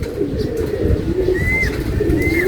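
Racing pigeons arriving at a loft, with close, loud cooing calls, a few brief higher chirps and a constant rumble beneath.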